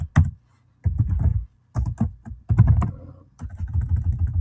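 Bursts of typing on a computer keyboard, close and crisp, come in quick clustered keystrokes separated by short pauses, with no voice.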